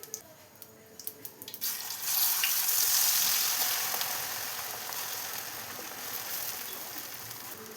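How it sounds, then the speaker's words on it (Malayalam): Prawns dropped into hot oil left from frying onions, a few sharp clicks followed by a sudden surge of loud, crackling sizzle that settles into a steady hiss. "ഇനി നമുക്ക് സവാള ഫ്രൈ ചെയ്തെടുത്ത അതേ ഓയിലിൽ തന്നെ ചെമ്മീനും കൂടെ ഇട്ടിട്ടൊന്ന് ഫ്രൈ ചെയ്തെടുക്കാം"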